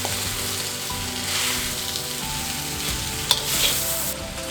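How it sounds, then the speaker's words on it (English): Lo mein noodles stir-fried with vegetables and meat, coated in sauce, give a continuous close hiss of frying with occasional utensil clinks, no talking over it. "Stir fry it a little bit more to coat everything with the sauce and noodles."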